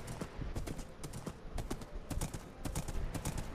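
A horse's hooves clip-clop steadily in a hardcore survival video game, a quick continuous run of hoofbeats heard alone at low volume.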